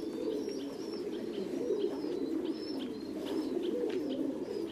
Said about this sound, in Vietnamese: Sau lưng mình đây là những cặp bồ câu trước đó thì mình có làm clip đây.